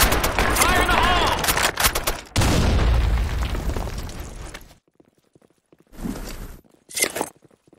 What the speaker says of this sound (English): Grenade! Fire in the hole! Fire in the hole!